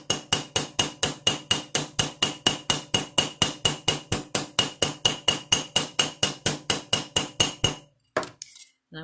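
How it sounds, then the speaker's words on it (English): Steady hammer blows on a copper rivet, about four strikes a second for eight seconds, each a sharp metallic ring. The rivet is struck from the back until it mushrooms, and a few softer clinks follow at the end. "hit the rivet from the back side till the rivet wire kind of mushrooms out"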